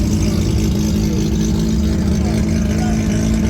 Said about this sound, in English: Everyone's just revving their engines, even though it says like specifically not to rev.